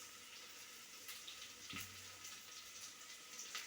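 Tap water runs steadily into a kitchen sink while turmeric is washed for tomato rice. The flow is a soft, constant hiss, with faint clatter and one brief knock midway.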